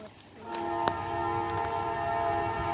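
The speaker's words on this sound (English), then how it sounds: "it's a double stack train" A Norfolk Southern double-stack freight train rolls through Spartanburg, South Carolina, with a steady rumble building and a sustained tonal horn blast holding over the noise, loud and close.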